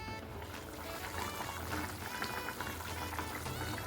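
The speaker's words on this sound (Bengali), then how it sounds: "এখন আমি পরিমাণ মতো এখানে দিয়ে দেবো হচ্ছে জলটা" Water pours into a pot of koi fish curry with new winter potatoes and cauliflower, a steady close splashing and trickling that runs evenly throughout.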